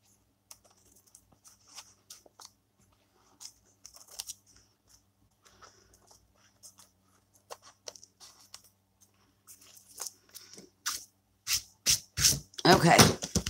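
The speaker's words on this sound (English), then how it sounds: "If I can get the scissors in there." Scissors trimming the paper edge of a handmade junk journal cover, with scattered small snips and rustles that build into a quick run of loud, close cuts at the end.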